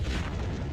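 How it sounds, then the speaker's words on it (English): A television set is blown up with explosives, a brief deep booming blast that fills the moment with loud low rumble and broad noise, fading only slightly. "demonstrating a high-speed camera by blowing up a TV"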